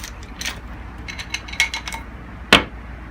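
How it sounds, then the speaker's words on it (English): A Tippmann paintball marker's barrel comes off as a few small clicks and light mechanical rattles of plastic and metal parts, ending in one sharper clack, all close and quiet. "So the first thing you're going to do is remove your barrel."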